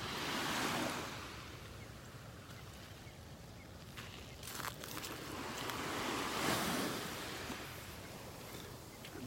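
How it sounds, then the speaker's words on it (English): Surf breaks on the beach at Area 4 of Delnor-Wiggins Pass State Park, a soft, steady wash of waves with gentle swells in loudness and a brief crest of a breaking wave midway. "This is Area 4 Beach at Del Norwiggins Pass State Park."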